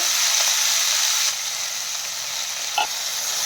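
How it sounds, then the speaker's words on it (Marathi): Finely chopped fenugreek leaves sizzle steadily in a pan of lightly fried garlic for lasuni methi, a loud, continuous hiss that eases slightly partway through, with a brief utensil clink near the end. "लसूण हलकासा तळत आला की त्यामध्ये आता बारीक चिरलेली मेथी घालून घ्यायची आहे"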